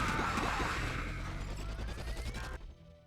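A sci-fi ion cannon fires in the StarCraft Brood War mod Cosmonarchy, a loud dense energy blast with a rising whine and crackle that cuts off abruptly after about two and a half seconds.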